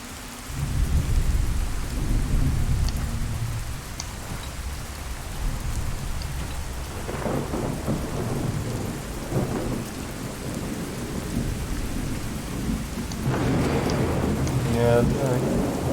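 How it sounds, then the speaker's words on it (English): Fallout 4 thunderstorm from the True Storms mod, with steady pouring rain and repeated deep thunder rumbles building in waves; a voice can be heard briefly near the end. "really truly feel like a storm."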